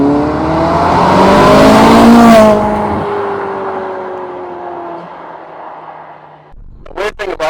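Ferrari 458 supercar on the road, its engine note climbing loudly and then easing off into a falling cruise, with a voice cutting in near the end.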